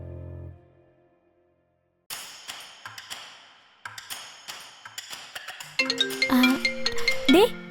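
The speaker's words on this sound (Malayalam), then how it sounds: "ഫോൺ റിങ് ചെയ്യുന്നു." A mobile phone rings: a bright, melodic chime of rising tones near the end, after scattered light taps and knocks.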